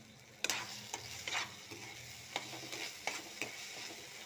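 Masala fries with sour yogurt in a pan, a soft sizzle broken by repeated spoon scrapes and knocks against the pan at irregular intervals, close but quiet, with no voices.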